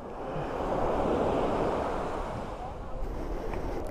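A broad wash of ocean surf rolling in, swelling loud then easing slightly, with wind rushing across the microphone.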